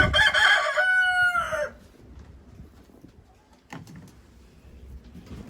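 Young chickens at a countryside dacha, with a rooster's loud close crow opening, then quieter scattered clucks and rustling from the hens afterward.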